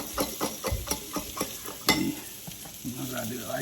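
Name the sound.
vegetables sautéing in a pan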